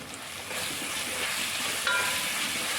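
Curry leaves hitting hot oil in a pan while cooking a chicken curry: a loud, steady hissing sizzle that swells as the leaves go in and stays bright and crackly throughout, with no talking.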